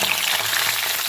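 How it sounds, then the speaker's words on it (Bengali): Flat beans (sim) frying in hot oil in a wok give a loud, continuous crackling sizzle, bright and steady across a short stretch with no voices. "ওই তেলের উপরে সিমগুলো দিয়ে দেবো, লবণ দিয়ে দেবো,"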